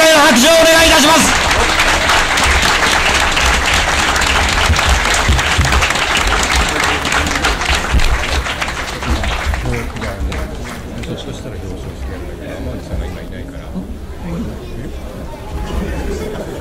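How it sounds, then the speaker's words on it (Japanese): Loud, dense applause from an audience at the final of a spinning-top fighting competition among manufacturing teams, sustained for about ten seconds and then thinning into crowd chatter. "決勝戦を戦いました両チームにもう一度盛大な拍手をお願いいたします"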